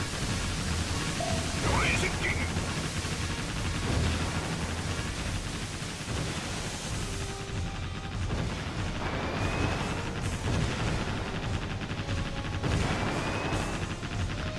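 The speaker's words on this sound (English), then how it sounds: "And here come a ton of torpedoes." Explosions and hits rumble through a naval battle as torpedoes and missiles strike a warship in Warship Gunner 2 Portable, a dense stretch of booms and crackling blasts layered over steady game noise and music.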